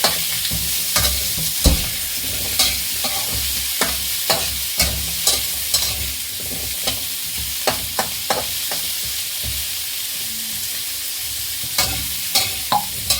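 Squash sautéed and stirred in a pan for a Filipino mixed-vegetable dish: close, repeated scraping strokes of a utensil against the pan over a steady background sizzle, in an irregular rhythm throughout.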